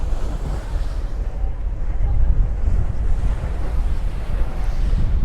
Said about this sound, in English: we're getting a little bit of a swell now